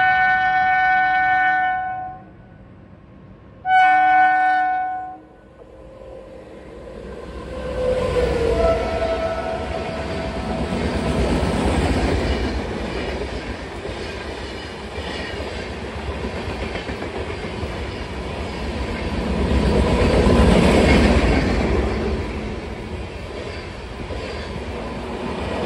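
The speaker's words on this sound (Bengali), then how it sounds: "আমাদের সাথে এখন দেখা হবে ট্রেন নাম্বার 13151 কলকাতা থেকে ছেড়ে আসা জম্মু তাওয়াই এক্সপ্রেসের সাথে" Jammu Tawi Express 13151 from Kolkata rolls past with a steady, loud rumble and rail clatter, preceded by two short horn blasts; the roar swells and peaks near the end with no talk.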